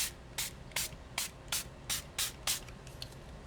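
A spray bottle of homemade watercolor spray fires eight quick, evenly spaced hissing spritzes, close by, each a short burst of fine mist.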